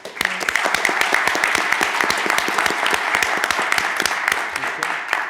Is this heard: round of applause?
yes